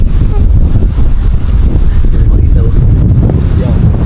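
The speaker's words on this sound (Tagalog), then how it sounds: "Ang lakas ng hangin" Strong wind on a mountain buffets the microphone in a steady low roar that lasts throughout, loud and close, with no clear speech over it.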